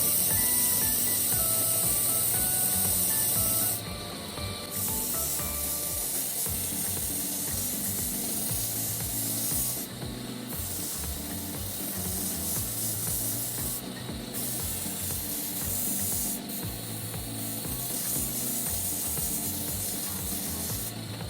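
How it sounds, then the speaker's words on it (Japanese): Belt sander polishing a handmade Damascus steel Japanese kitchen knife with a narrow-cut belt, a continuous close grinding rub with bright high hiss and rhythmic scraping strokes, the tone dipping briefly at intervals as the blade shifts. "細く切ったベルトで角を取りながら形が崩れないように磨いていきます。"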